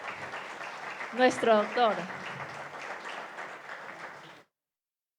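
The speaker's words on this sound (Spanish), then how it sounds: "Por favor, un fuerte aplauso para" Audience applause at a book launch in Riobamba, a steady patter of clapping running for about four seconds while someone speaks briefly over it, then it cuts off abruptly into silence.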